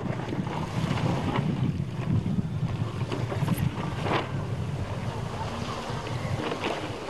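Strong wind roars across the microphone while waves slap and rush around a small sailboat during a race on open water, a dense, unbroken, loud wash of noise.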